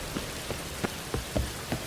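Rain falls in The Witcher 3 as a soft, steady patter on surfaces, with individual drops ticking at a fairly regular pace. It stays faint and close, and no one speaks.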